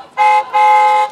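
Two short, loud electronic toots from a toy car horn in a prank box toy, a brief one followed by a longer one, close up.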